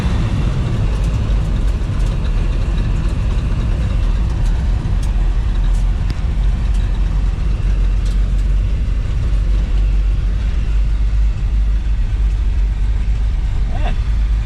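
Engine of a 1978 Pontiac Trans Am running, a loud, dense low rumble held steady throughout as the car is driven through its gears.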